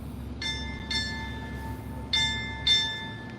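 A ship's bell at a Navy retirement ceremony rings four times in two quick pairs, each bright metallic strike ringing on briefly over a low room hum.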